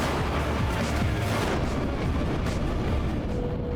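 Heavy, continuous gunfire and booming blasts in a video game, loud and dense throughout with overlapping shots and no pauses.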